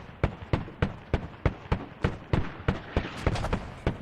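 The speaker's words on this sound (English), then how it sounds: "I'm doing 2 lines of mortar." Mortar rounds fire in a tactical shooter match, a rapid even series of about fifteen sharp thumping launches roughly a third of a second apart, loud and close.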